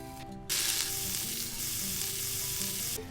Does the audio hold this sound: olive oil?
yes